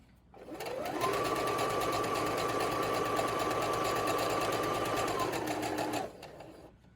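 A sewing machine runs one continuous stitching pass down the side of a fabric face mask, starting up, holding a steady whirring hum for about five seconds, then stopping, close and alone.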